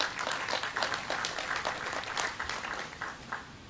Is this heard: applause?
yes